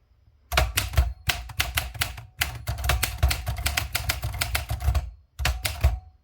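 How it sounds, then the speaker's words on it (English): A 1962 Olympia SF manual typewriter being typed on, loud and close, with rapid bursts of sharp keystrikes broken by short pauses. "we can see that we're just typing the same spot"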